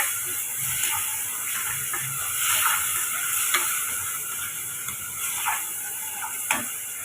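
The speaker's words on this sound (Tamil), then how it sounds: "இப்போ நம்ம வேக வச்ச உருளைக்கிழங்கு போட்டுக்கோங்க கலந்து விட்டுக்கலாம்" Steady sizzling hiss of boiled potatoes in a hot pan for potato gravy, with a few scraping stirs of a spoon through it and no talking.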